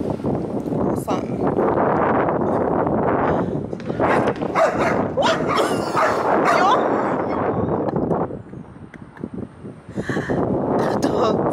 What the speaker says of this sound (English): The dog scared me. I thought the dog was out of the car.